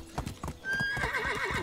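A horse in the video game Medieval Dynasty clops its hooves in a steady rhythm, then lets out a clear, wavering neigh close by.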